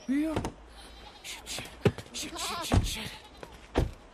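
A sheep hit by a car gives a short wavering bleat at close range, amid sharp thuds and a person speaking.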